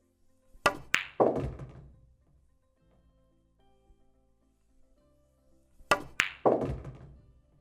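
A pool cue strikes the cue ball on a pool table as a stun shot sends the 2 ball toward the side pocket. Two separate bursts of sharp clacks and knocks, each a quick cluster of hits, are separated by several seconds of near-quiet.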